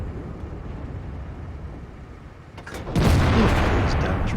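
Tank cannon fire in the video game World of Tanks, with an IS-2 heavy tank in play: a low rumbling drone gives way to a sudden loud boom, then a sustained heavy roar.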